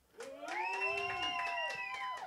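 Crowd at the Broken Complex MC battle rising into a loud, sustained cheer and shouting for battle rapper Bonez, with high whooping voices swelling after a quiet start and holding steady.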